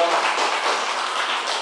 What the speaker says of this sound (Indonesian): tepuk tangan untuk Stogondoi